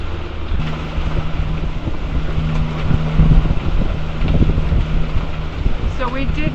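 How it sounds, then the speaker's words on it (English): Sailboat motoring under engine power at sea, with a steady low engine drone mixed into loud wind and water noise throughout, close to the microphone. "So we're just under motor."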